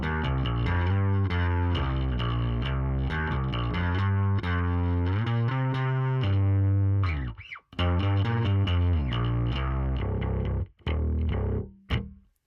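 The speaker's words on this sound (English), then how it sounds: "obviously now it's more of a distorted sound" A heavily distorted bass guitar through a Line 6 Helix plays a steady run of notes, thick and gritty, cutting out briefly twice before ending with a few sharp plucks.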